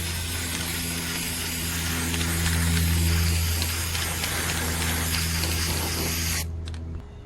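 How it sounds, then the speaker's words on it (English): A spray paint can hisses steadily as it coats a ceiling fan, a loud, close, continuous spray lasting several seconds before cutting off abruptly, over a low hum. "I'm going to just use my can now and just tap the area so I could get to the other side, and then just start spraying again."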